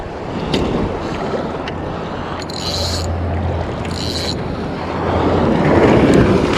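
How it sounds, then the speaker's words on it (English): Surf washing in at a rough beach during fishing, a steady broadband wash with wind buffeting the microphone and a louder surge of water near the end, no talking. "Oh, God, these waves."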